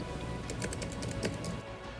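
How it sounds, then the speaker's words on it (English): Fairly quiet keystrokes on a Gigabyte A5 K1 laptop keyboard, a short run of soft, irregular taps at close range over a low background hum, with no talking. "The keyboard quality is actually decent, and it's not that loud."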